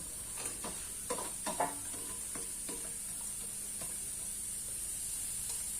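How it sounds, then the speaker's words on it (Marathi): Onion going into a pan with roasted dried fish, giving a faint, soft sizzle with a few light scraping and stirring clicks early on, alone without talk. "तर सुकट रोस्ट करून झाली आता हे कांदा टाकतो"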